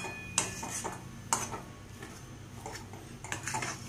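A spoon scrapes and knocks against a pan while a vegetable masala mix is stirred, producing a few sharp metallic clinks over a soft continuous scraping, close and fairly quiet.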